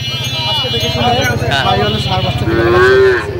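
A Sahiwal bull calf moos loudly and close by in one long low call at a cattle market in Dhaka, with people talking in the background.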